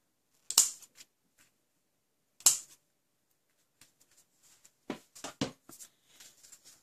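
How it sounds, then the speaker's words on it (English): Scissors snip off ribbon tails on a handmade birthday card: a few crisp, close cuts in two bursts, then a quick cluster of sharp snips near the end, with quiet between and no talking. "So snip them off."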